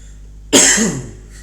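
A single short, harsh cough, close and loud, rising abruptly and trailing off within about half a second against a quiet room.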